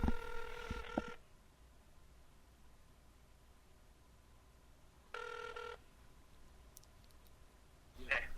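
A telephone being dialed for a call, with short bursts of tones and clicks at the start and again briefly in the middle, separated by quiet line hiss, fairly faint and close.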